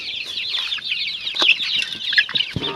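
Chickens being herded at dusk on a rural farm, giving quick overlapping clucks and squawks close by, with a brief flutter of wings, no talking.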